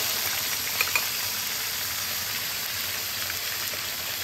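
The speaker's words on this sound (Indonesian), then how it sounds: "sekarang giliran bekasam ikan lampam Jawa pula kita nak goreng guys" Fermented lampam fish, bekasam, fries in a pan with a steady, dense sizzle that stays close and even throughout, with a couple of small pops near the start.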